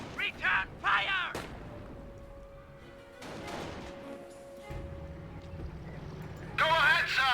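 Artillery fire and gunshots from the video game Company of Heroes, a WWII battle with a Hetzer tank destroyer and an AT gun, booming in bursts under energetic commentary and shouted in-game voice lines.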